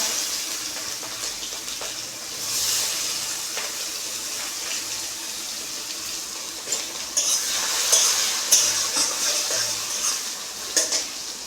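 Green chillies and chopped onion frying in a pan for a jackfruit seed curry, a loud steady hiss with crackling spits and occasional stirring, close and continuous with no talk.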